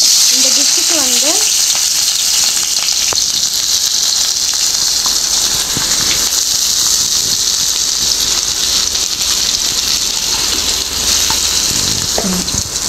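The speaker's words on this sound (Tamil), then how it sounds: "ஸோ இது நல்லா எண்ணெயில் வந்து நல்லா வந்து வறுத்துக்கலாம்." Crushed shallots and garlic fry in hot oil for a Tamil chicken chukka, giving a loud, steady sizzle throughout with a few stirring scrapes; a voice speaks briefly near the end.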